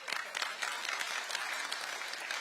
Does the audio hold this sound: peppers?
no